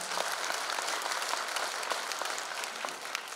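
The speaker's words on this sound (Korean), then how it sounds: "여러분 다시 한번 큰 박수 부탁드립니다" Sustained crowd applause at a Korean lawmaker's parliamentary activity report meeting, dense, even clapping from a large audience throughout, with no talk over it.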